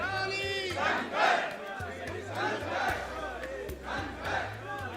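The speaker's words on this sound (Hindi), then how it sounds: "भारी भीड़ है जो हमारे पीछे है, और करौली शंकर के नारे लगाए जा रहे हैं" A large crowd chants slogans for Karauli Shankar in rhythmic, swelling waves of many voices, loud and close, over a low pulsing hum.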